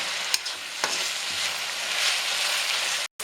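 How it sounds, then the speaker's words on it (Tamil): Onion, green chilli, ginger-garlic masala and curry leaves fry in oil for a spicy chicken dry roast, giving a steady, close hissing sizzle with a few stirring scrapes before a brief cut near the end. "அந்த எண்ணெயிலே வெங்காயம், பச்சை மிளகாய், இஞ்சி பூண்டு மசாலா, கருவேப்பிலை எல்லாம் நல்லா வதங்கணும்."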